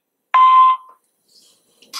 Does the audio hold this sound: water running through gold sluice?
no